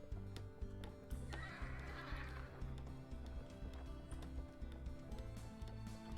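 Horse neighing in the Wild West video game Depraved, one clear whinny over a steady rhythmic clip-clop of hooves, set against a low background music bed with no talking.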